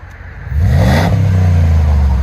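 A 2008 Jeep Grand Cherokee 5.7L HEMI V8 with a Flowmaster 50 Series exhaust and the resonator removed revs: a deep, loud, close engine note climbs sharply after a brief idle, then settles into a throaty rumble.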